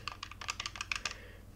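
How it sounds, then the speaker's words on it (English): Clicky buttons on a Nintendo GameCube controller are pressed in a quick, irregular run of about a dozen light plastic clicks, close and fairly quiet, with no talking. "I like this one better because it has clicky buttons"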